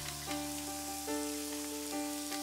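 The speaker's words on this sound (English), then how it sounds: "Let the beef cook on high heat without stirring until brown" Beef slices searing on high heat in a hot pan for Hayashi rice, giving a steady close sizzle with faint crackles and a few soft pops, no voices.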